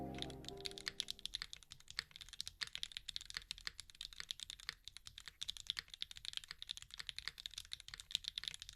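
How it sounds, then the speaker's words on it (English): Steady, fast typing on a Kohaku mechanical keyboard, crisp key clacks in a dense even rhythm, close and fairly quiet, with no talking. "Yep, it sounds like a keyboard."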